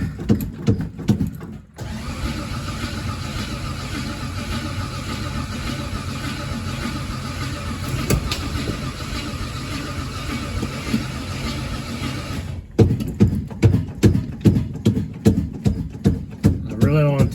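Cold start of a supercharged AMC Javelin engine, a brief churn that catches into a loud, steady running roar for about eleven seconds, then cuts to rhythmic sputtering pulses, with voices talking over parts of it.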